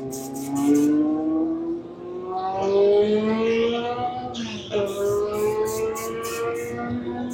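A historic race car engine idling and revving at the Grand Prix de France Historique, a steady droning tone that rises and falls in pitch, with a short sharp blip midway and faint talk beneath.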